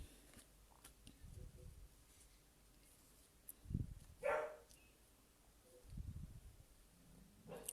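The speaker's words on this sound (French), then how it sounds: "Vous entendez le chien aboyer ou pas?" A dog barks faintly in the distance, giving several short, scattered bursts spread across the stretch with quiet gaps between them.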